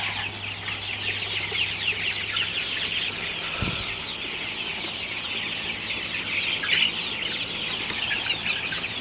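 A flock of broiler chickens inside a chicken house clucks continuously and busily at moderate distance, with a steady background hum throughout.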